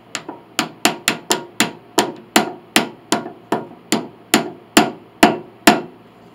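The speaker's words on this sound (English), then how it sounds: "chisel that away." Hammer blows drive a chisel into wood during restoration of an 1867 Chickering 33B piano, about fifteen sharp, loud, close strikes in a steady rhythm, each ringing briefly before the next.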